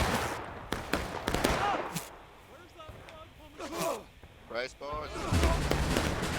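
Musket volleys in a historical battle game crack out in several sharp, loud bursts with irregular spacing, interleaved with a commentator talking between shots.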